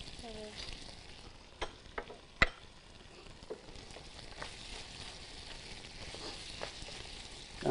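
Garlic sizzles in a pan with salt and cumin, a faint steady crackle broken by scattered sharp pops and ticks, close but quiet, with no talk.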